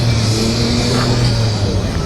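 A 3.5 litre turbocharged V6 car engine revs at a classic and supercar gathering, a loud steady drone with strong low harmonics held up close throughout, faint crowd noise behind.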